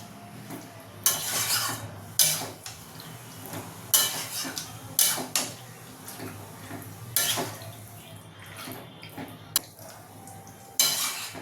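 A spoon stirs chicken chaap in a pan, scraping and clinking in a series of short, sharp bursts with quieter gaps between, close by and alone without talk.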